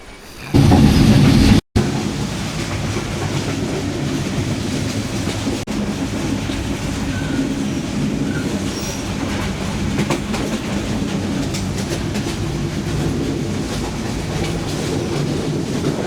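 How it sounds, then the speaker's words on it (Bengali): The Kurigram Express rolls along the rails at night near Santahar with a loud, continuous rumble and a faint clickety-clack, after a brief louder burst at the start. "রাত্রেবেলা ট্রেনে যাচ্ছি"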